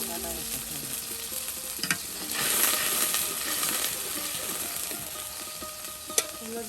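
Ground ginger, cumin and mixed spice paste frying in a pan for a village-style goat meat curry: a continuous sizzle that swells briefly, with occasional sharp clinks of a spoon on the pan.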